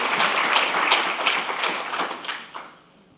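A conference audience claps steadily to welcome a speaker at a patient and public involvement research session. The applause is dense and fairly close, then fades out over the last second with a few stray claps.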